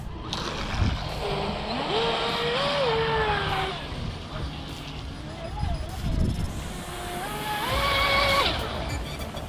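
A WLtoys WL916 RC car on a 4S battery running at full speed, its electric motor whining and rising and falling in pitch as it accelerates, passing fairly close with outdoor noise and brief talk.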